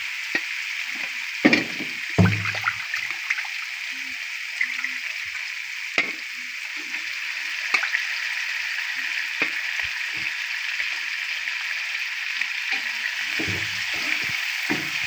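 Fresh pond fish, magur and shing among them, frying in spice masala in a pan: a steady sizzle throughout with occasional spatula knocks and stirring scrapes, close up, no talking.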